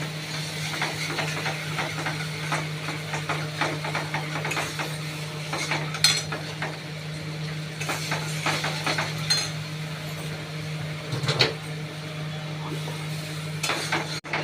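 Rohu fish pieces with turmeric and salt are stirred in a pan: a spatula or spoon clinks and scrapes in irregular bursts over a low, steady background hum and faint sizzle.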